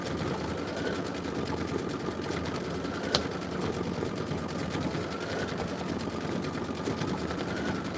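A 10-needle embroidery machine runs steadily with a fast, even mechanical chatter that holds at a constant level throughout, with one brief sharp tick partway through.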